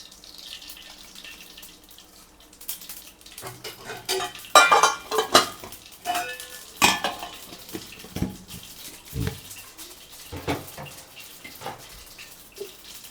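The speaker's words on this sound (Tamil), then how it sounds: "இப்போ எண்ணெய் காஞ்சிடுச்சு நம்ம கடுகு சேர்த்துக்கலாம்" Mustard seeds dropped into hot oil in a pan while making squid thokku give quiet scattered pops and sharp spatters. Irregular clatters of metal against the pan sound up close, with no talking.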